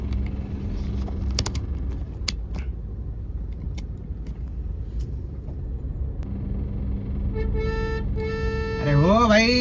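Busy road traffic carries a constant low engine rumble with passing vehicles, and near the end several loud, close horn blasts sound, one sliding upward in pitch.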